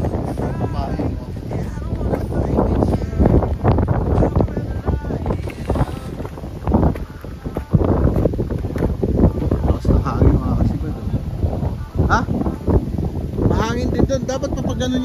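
Strong wind buffets the microphone in loud, gusty roars during a fishing trip on open water, while people talk over the blustery noise throughout.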